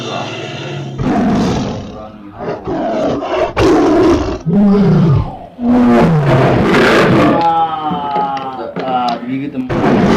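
Loud, close roars for a toy tiger during children's play with dinosaur and animal toys, mixed with animated voices and vocal growls that imitate the beast across ten seconds.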